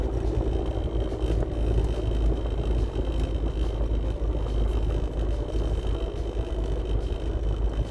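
A small eco car engine straining up a steep mountain road, a steady, droning hum of sustained effort at about 2,000 rpm, close and continuous with no talk.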